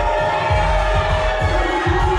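Wedding reception guests at table one cheer together in a loud, dense crowd roar, with overlapping shouts and whoops swelling over a steady thumping beat of DJ music.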